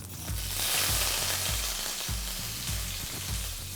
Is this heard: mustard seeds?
yes